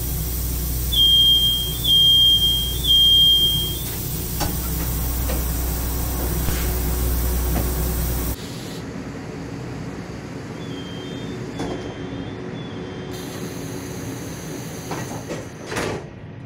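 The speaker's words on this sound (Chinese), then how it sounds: "警示音为柴联自强号轻微的3声哔哔声，同样也是警示音响完后动作" Taiwan Railway Tze-Chiang EMU door warning, three soft electronic beeps followed by the hiss and thud of pneumatic doors, then a fainter repeat of the beeps against quieter station ambience, no talking.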